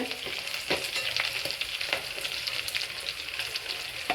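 Green chillies frying in hot oil in a pan, a steady bright sizzle broken by a few soft stirring clicks, close and continuous with no talking.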